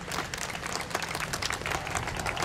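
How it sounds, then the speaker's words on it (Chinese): A studio audience at a Taiwanese variety show claps in a brief, fairly soft burst, dense clapping that holds steady without voices on top. "来再鼓掌一下"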